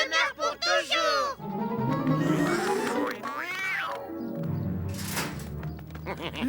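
Cartoon cat Garfield meows and yowls in bending, drawn-out cries, mixed with squeaky cartoon voices and sound effects in a loud, busy animated scene.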